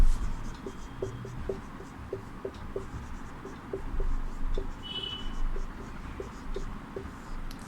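Chalk or marker scratching across a classroom board during a Class VIII Hindi lesson, a steady run of short rhythmic strokes and taps at close range, fairly quiet over low room hum, with no talking.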